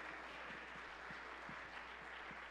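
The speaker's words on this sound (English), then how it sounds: "somebody clap your hands unto the Lord for another moment" Church congregation claps hands together in worship, a quiet, continuous patter of many hands with faint rhythmic beats, distant and low in level.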